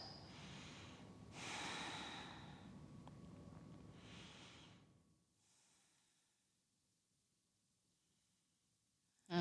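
Breathing during a vinyasa yoga flow: a few heavy, audible breaths and snort-like exhales close by, followed by several seconds of near silence.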